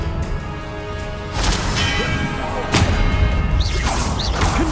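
Expelliarmus disarming spell cast in the Hogwarts Legacy video game: whooshing magical bursts with sharp crashing impacts around the middle, over a busy game soundscape with faint voices.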